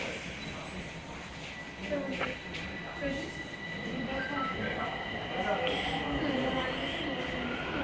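A Bucharest metro train on line M3 runs with a steady loud rumble, the rolling wheels and faint squeals continuous throughout, heard from inside the carriage.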